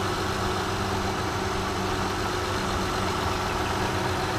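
A 2009 Honda Odyssey engine idles steadily while warming up after a timing belt and water pump replacement, a constant low hum running evenly throughout with no talk.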